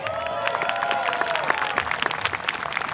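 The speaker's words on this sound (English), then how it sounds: "Yes, we can clap, absolutely we can clap" Audience applause fills the air at a pipe band festival results announcement at a Highland games in British Columbia, steady dense clapping with some cheering, while faint tonal drone lines fade in the background early on.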